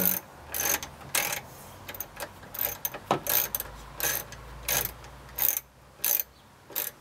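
A ratchet clicks in repeated short bursts as a screw is tightened while changing a car's rear light bulb, the clacking strokes coming in an uneven rhythm close by.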